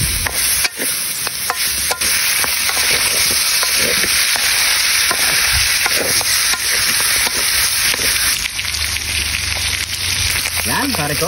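Pork bagnet frying loudly in rendering fat, with a steady dense sizzle throughout and repeated scraping knocks as it is stirred, close up and without talk.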